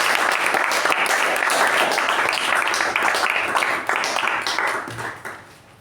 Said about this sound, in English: So can we have a thunderous round of applause for DTM AK Prabhakara?